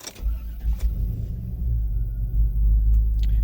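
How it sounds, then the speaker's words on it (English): Escalade truck engine idling through its factory muffler, a deep steady rumble close by with a couple of faint clicks, no talking. "this truck is running"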